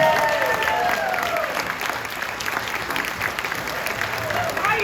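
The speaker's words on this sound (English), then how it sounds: "let's give her a great round of applause to welcome our own funny lady" Audience applause welcoming comedian Joey Sims to the stage at a comedy show, a steady, full burst of clapping with some cheering and voices mixed in throughout.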